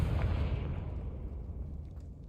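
A Confringo fire-blasting spell explodes in Hogwarts Legacy, a loud booming burst at the start with a deep rumble that slowly fades over a couple of seconds.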